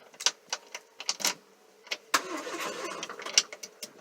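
A 1964 Volvo PV544 that sat off the road for 42 years cranks over on its starter, a rhythmic chugging of repeated sharp turns, then a longer rougher stretch of cranking that never catches, close and fairly loud with no talking.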